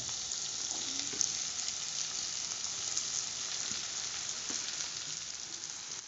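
Sabudana (tapioca pearls) are tipped into a pan with spices for khichdi, giving a steady, soft sizzle and frying hiss that continues evenly throughout, with no talking.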